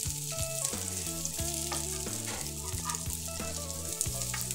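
Chicken shami kababs fry in a pan over a medium flame, giving a steady, dense sizzle that continues without break under a faint tonal background.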